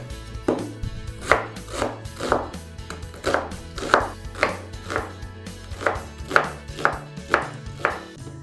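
A knife cuts an onion into thin half-rings on a board, giving a steady series of about fifteen crisp chops at an even rhythm, close by, over a low constant hum, with no talking.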